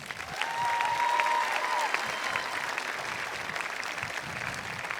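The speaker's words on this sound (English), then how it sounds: "Would you please give them another round of applause?" A crowd at a high school graduation ceremony claps steadily for several seconds, dense applause at even loudness, with a faint whistle near the start.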